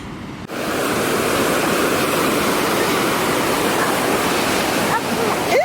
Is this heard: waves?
yes